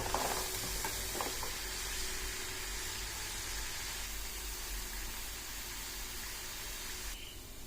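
Rice flour and jaggery snack batter frying in oil over a medium flame, giving a steady, dense sizzle that holds evenly throughout with no voices.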